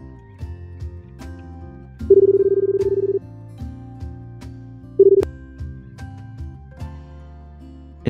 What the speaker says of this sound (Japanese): 電話してみるか。